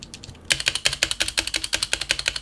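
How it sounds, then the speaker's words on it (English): Fast, even keystrokes on an RGB mechanical keyboard with rattling stabilizers, a close and crisp run of clacks after a brief quiet start. "we are going to remove the rattling noises coming from the stabilizers"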